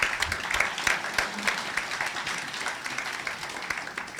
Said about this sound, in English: one more round of applause for our awardees